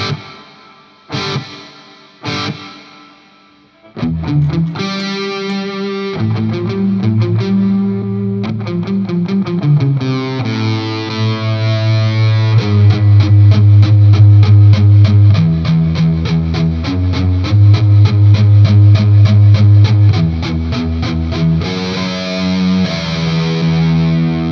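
Distorted electric guitar played through a Mooer R7 reverb pedal on its plate setting: strummed chords and sustained notes ring out with a long, shimmering reverb tail, loud and continuous after a few sharp opening hits.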